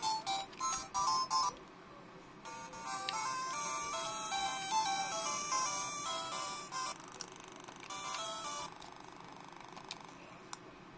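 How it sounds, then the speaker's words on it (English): An ESP32 retro handheld running the Retro-Go emulator plays a glitchy beeping tone sequence when the PC Engine emulator closes, a few chirps followed by a sustained warbling electronic buzz. "That sound when we close PC Engine might have to get fixed, I suppose."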